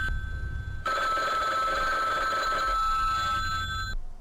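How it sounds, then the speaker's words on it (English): A telephone rings in a horror video game, a steady electronic bell tone with stacked harmonics that starts abruptly and sustains for about three seconds before cutting off, loud and alone over a low ambient rumble. "we hear a phone ring"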